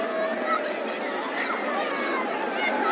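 Broad, steady roar of a large stadium crowd at the final of a cricket match between the India champions and the Pakistan champions, a continuous wash of chatter and cheering with no single voice standing out.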